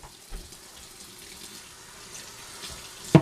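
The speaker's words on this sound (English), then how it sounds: "and run it under some water." Water runs from a tap over a sharpening stone, a steady, close splashing hiss with a few louder gurgles and a sharp knock near the end, no voices heard.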